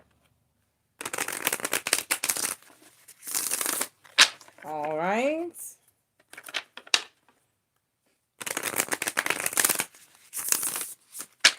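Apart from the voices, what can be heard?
shuffling tarot cards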